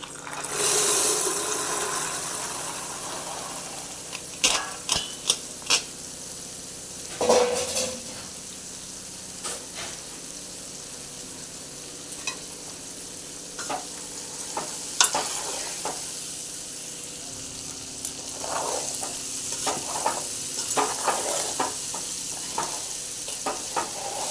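Boiled chickpeas are stir-fried in a pan, a soft continuous sizzle punctuated by repeated scrapes and clinks of a spoon against the metal, close and without speech.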